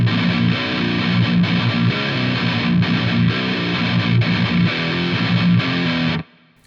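A distorted electric guitar plays the second-time chord part of a song, steady chugging chords swapping between two shapes for about six seconds before cutting off abruptly, loud and up close with no talking.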